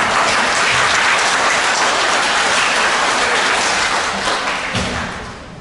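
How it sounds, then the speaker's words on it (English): Loud, dense applause from a crowd at a middle school awards assembly, a steady wash of clapping that fades slightly toward the end. "I was hoping someone was going to give you a round of applause"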